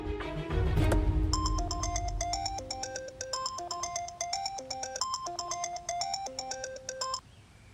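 A telephone rings with a bright electronic ringtone: a repeating melodic pattern of beeping tones played steadily for several seconds, close and clear, then cut off abruptly.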